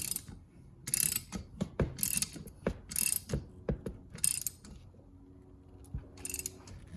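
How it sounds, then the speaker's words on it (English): A 1/2 inch ratchet clicks on the water pump bolts of a Chevy 350 engine. It makes close, irregular runs of sharp clicks and short bursts of ratcheting, with brief pauses between them and no talking. "1/2 inch ratchet fits great in there."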